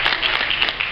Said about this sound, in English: One more round of applause for the community center being open.